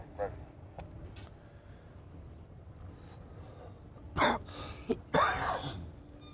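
Two rough, throaty coughs close to the mic, one after another, over a quiet background with a few faint knocks.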